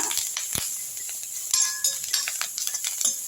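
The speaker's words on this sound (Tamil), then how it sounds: "இதுலேயே வந்து கருவேப்பிலை ஒரு கொத்து போட்டுக்கலாம் நான் கொஞ்சம் நிறையவே எடுத்துருக்கேன் எல்லாத்தையும் நல்லா வறுத்துருங்க" Curry leaves and spices frying in a pan for a medicinal dry-ginger and pepper kuzhambu, a soft sizzle with light metallic clinks and scraping stirs, close by and without speech.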